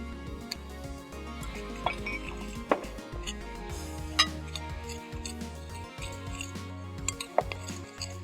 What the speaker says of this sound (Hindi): रेड चिली पाउडर जाएगा इसमें, चिकन पाउडर और सॉल्ट। इसको करेंगे अच्छे से मिक्स।